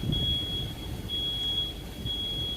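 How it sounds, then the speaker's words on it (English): A 2012 Ford E450 backup alarm emits a steady high-pitched tone in long repeating beeps, fairly loud and alone over a faint low background hum. "Oh, it's a terrible backup alarm"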